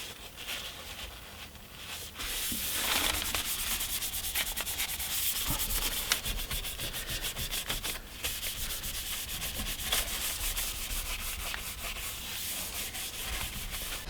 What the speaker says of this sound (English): what we'll do first is sand it back